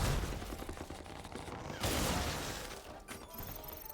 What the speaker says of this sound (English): I gotta shoot you.